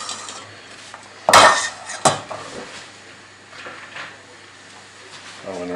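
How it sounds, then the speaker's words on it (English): Cooking contents are tipped back into a pan in a home kitchen, with a couple of sharp metallic clanks and scrapes of utensil against pan, followed by quieter clinking and shuffling. "So I'm going to return all of the contents back into the pan."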